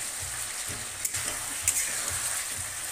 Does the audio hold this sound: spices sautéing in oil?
yes